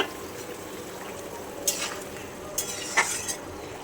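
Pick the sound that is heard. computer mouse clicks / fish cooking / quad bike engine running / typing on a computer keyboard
fish cooking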